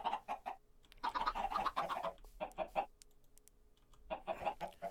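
Chickens on a small video game farm cluck in short clustered bursts, with brief pauses between groups, fairly close and alone without talk.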